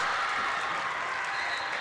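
Crowd at a girls' high school basketball game applauding steadily, a dense continuous wash of clapping filling the gym for the full stretch, fairly close and loud, with no distinct voices standing out.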